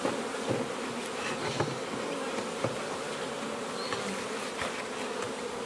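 Honeybees hum steadily around an open hive during a brood inspection, a dense close buzz with faint clicks and knocks from handling of the hive and no voices.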